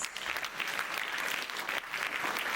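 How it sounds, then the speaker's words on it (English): Audience applause fills a school hall at a book launch: steady, moderately distant clapping from a crowd that continues throughout with a brief dip near the end. "Dr. Santosh Kumar, with a huge round of applause."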